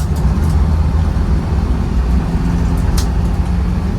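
A 1997 Land Rover Defender 90 with the 300Tdi diesel accelerating in fourth gear, a loud steady engine drone with road and wind noise, close up and continuous.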